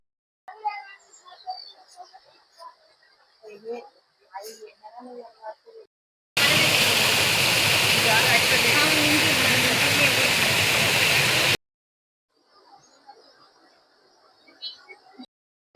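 A steady roaring rush of falling water fills the middle stretch, loud and continuous, bracketed by quieter moments with scattered voices and movement.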